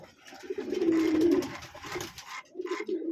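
A Sirazi pigeon cooing close up, a throaty rolling coo followed by a shorter second coo after a brief pause.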